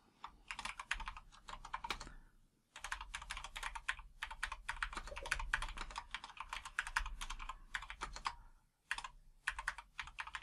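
Rapid keystrokes on a computer keyboard during Odoo 18 and Microsoft Outlook setup, close and steady in bursts with a few brief pauses, no talking.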